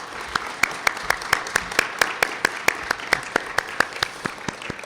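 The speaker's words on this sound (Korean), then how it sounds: "박수로 환영해 주시면 감사하겠습니다" A church congregation claps to welcome visiting guests, the hands striking together in a steady unison rhythm of sharp, evenly spaced claps.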